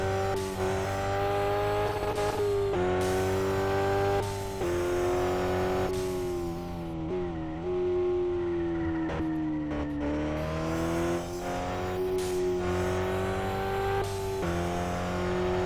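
Magura race car on slick tyres in the RevHead racing game, its engine revving hard and continuously, pitch climbing through each gear then dropping at shifts and downshifts, loud and close with no talk.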